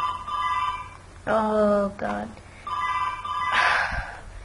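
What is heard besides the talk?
telephone ringing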